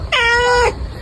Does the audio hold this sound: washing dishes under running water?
no